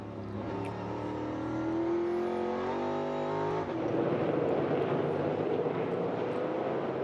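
NASCAR Cup Series race car at Circuit of the Americas, engine droning loud with a rising then shifting gearbox whine, blending into a broad roar of passing cars.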